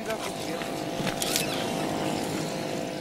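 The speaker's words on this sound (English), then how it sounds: "The outboard motor is no stranger to the Curragh." An outboard motor drives a curragh, a keelless Irish rowing boat used for inshore fishing, giving a steady, even engine drone with water rush that holds throughout without a break.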